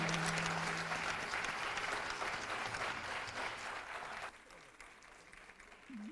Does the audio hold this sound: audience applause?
yes